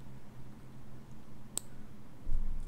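A single sharp computer mouse click sounds once, close and crisp, against a faint steady room hum.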